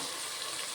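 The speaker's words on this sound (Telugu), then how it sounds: "సరిపడే వాటర్ వేసుకుంటాను" Water pours steadily into a cooking pot of frying vegetables for vegetable rice, a continuous close, even splashing stream with no pauses and no voices.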